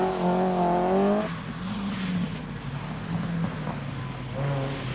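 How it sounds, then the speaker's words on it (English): An Opel Ascona rally car at the 1985 Group B Hellendoorn rally roars past very close, its high engine note loud and rising before dropping away into a rough, gravelly fade, with a second engine whine creeping in at the end. "Through comes the Opel, running as near as possible to our camera."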